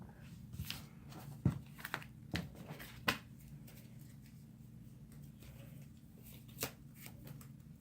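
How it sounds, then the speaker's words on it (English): A deck of trading cards for the Cardfight Vanguard game being shuffled by hand, soft close riffling and sharp snapping flicks in a quiet room, with several distinct card slaps spread over a few seconds. "and shuffle your deck"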